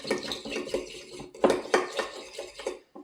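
A seasoned mixture of pâté, pepper and other ingredients stirred in a bowl, with clinking and scraping of a utensil against the dish in uneven, close strokes and no voices.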